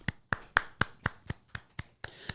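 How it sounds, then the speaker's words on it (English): Hands clap about ten times in a steady, even rhythm, each sharp close smack standing alone with no talking. "So claps for Erod"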